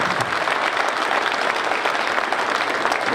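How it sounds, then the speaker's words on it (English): Members at an American Legion fall conference give a round of applause for Mary Barnett, producing continuous, full hand-clapping from a large room that stays close and even for the whole stretch. "I want to give her a round of applause"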